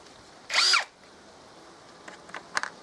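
A PROCRAFT PA 21 Li cordless drill with a worn, dull bit gives one short, loud whine of about a third of a second, followed by faint clicks and light knocks.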